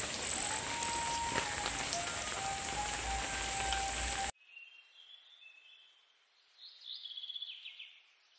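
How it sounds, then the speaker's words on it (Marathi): Heavy rain falls at a village home in the Konkan, a dense steady patter for about four seconds that cuts off abruptly, leaving near silence with a few faint bird chirps. "पावसाने पण आमचं जोरदार स्वागत केलं आहे, तुम्हालाही दाखवतो."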